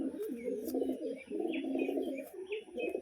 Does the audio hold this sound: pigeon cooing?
yes